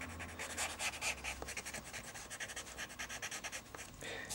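Pastel pencil rubbed into paper on a landscape drawing of a church, close soft scratchy rubbing in quick back-and-forth strokes, steady and rhythmic with no voice.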